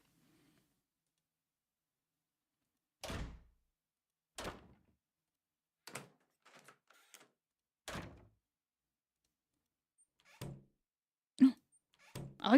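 Door sound effects with a creepy squeak, playing as a sparse series of sharp closing thunks and clicks spaced a second or two apart, each loud and abrupt against silence.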